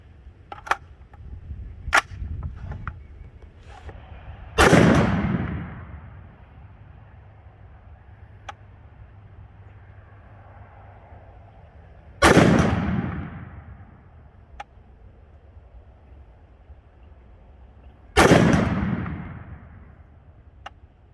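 A CMMG MK3 .308 battle rifle with a Magpul 25-round magazine fires M80 ball rounds outdoors: three loud, sharp shots spaced several seconds apart, each with a decaying echo, plus fainter clicks and handling noises between them.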